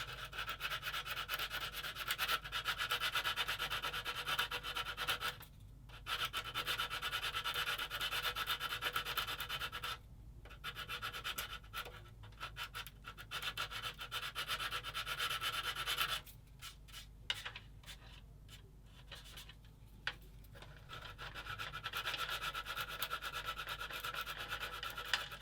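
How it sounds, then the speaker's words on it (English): A sanding stick rubs across a 1/35 scale plastic submarine model kit (Bronco Mk XXIII, CB35104) in long, steady close-up scraping strokes, with a few brief pauses between passes and no talking. "so when I do with my sanding stick now,"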